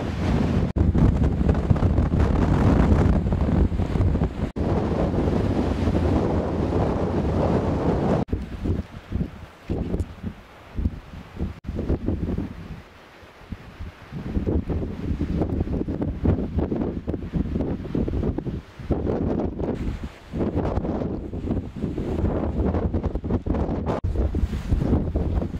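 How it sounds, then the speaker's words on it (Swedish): Strong wind buffets the microphone on an exposed mountainside, a loud, continuous roaring rumble that surges and dips in gusts for the whole stretch, with no voices. "Det blåser utav helvete!"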